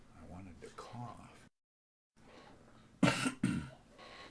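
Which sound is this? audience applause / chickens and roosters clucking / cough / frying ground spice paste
cough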